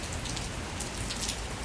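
Steady rain falls on a surface, a dense, even patter of drops that is close and fairly quiet, with no voices or thunder.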